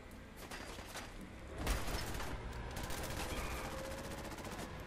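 Rapid bursts of gunfire in the video game Fallout 4 rattle on continuously, a dense stream of shots that swells about a third of the way in and keeps going at a moderate level.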